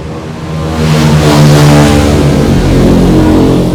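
Loud, continuous engine roar from passing motorcycles revving nearby, sustained and droning without pauses or voices.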